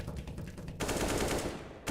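Counter-Strike gunfire sprayed through smoke, a quick run of automatic shots, faint and distant in the game mix.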